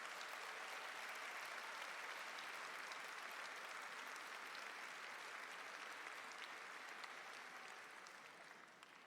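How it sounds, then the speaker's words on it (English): An audience at a national convention session applauds award recipients with sustained, dense clapping that holds steady and tapers slightly at the end. "Let's give all of our National President's Award for Excellent recipients one more round of applause."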